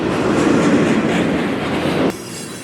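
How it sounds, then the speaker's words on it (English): FEC freight train 121 hauling intermodal cars rolls past with a loud, steady rumble of wheels and cars that cuts off abruptly near the end; no voices. "Train 121 hauling Intermodal from Jacksonville to Miami."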